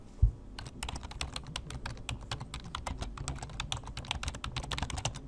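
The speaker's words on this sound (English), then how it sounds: "type my message in here" A computer keyboard is typed on in quick, uneven bursts of close, crisp key clicks that run steadily for several seconds, with no voices.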